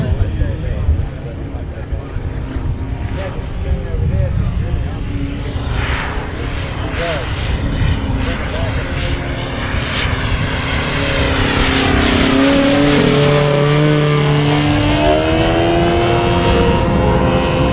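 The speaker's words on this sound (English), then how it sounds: "he's going to set up for another flyby, so get your cameras ready" A 36% scale RC Beechcraft T-34 Mentor model plane makes a flyby, its engine droning steadily and rising to a louder pass with a shifting pitch, while a voice talks over it.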